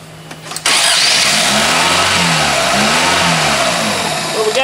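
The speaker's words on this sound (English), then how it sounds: "So we're getting ready to try to start it now." Chevy Cobalt car engine cranking and catching, then revving and settling into a loud, close, steady run with rising and falling pitch as the throttle is worked.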